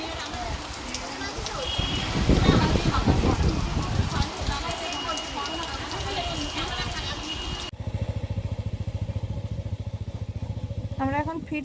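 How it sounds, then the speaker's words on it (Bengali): Heavy rain pours down in a steady, dense hiss that stays loud throughout and shifts in texture partway through. "বৃষ্টি আসছে জোরে"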